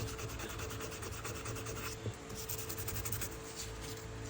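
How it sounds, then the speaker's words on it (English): Close, steady rubbing of 400-grit sandpaper along the handle of a vintage USA-made Gerber Sportsman knife, fast repeated strokes forming a continuous scratchy rasp with one small knock midway. "I'm gonna go ahead and start out on the handle with some 400 grit."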